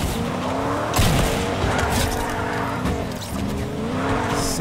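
A pickup truck speeds through a Fortnite match with tires squealing and skidding. The engine roars steadily and loudly for several seconds, with no voices over it.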